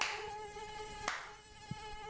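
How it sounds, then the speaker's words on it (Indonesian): Mosquitoes buzzing in Sulawesi Selatan, a steady high-pitched drone that holds close and loud throughout, with a couple of brief taps in the background. "Banyak banget ya nyamuknya di sini."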